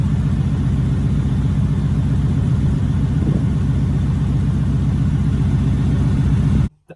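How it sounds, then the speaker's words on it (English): A Chevy OBS truck engine runs at a steady idle, giving a loud, close, even low rumble with no revving. It cuts off abruptly at the end. "The truck's running perfectly."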